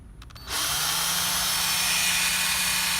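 A power drill spins up abruptly and then runs at a steady, loud whine close by, used while repairing a Ford 2000 tractor instrument cluster.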